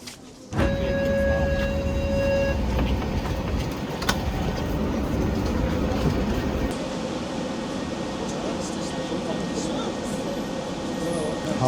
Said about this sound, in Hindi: फाइनली मैं T5 ट्रैम मिल गई है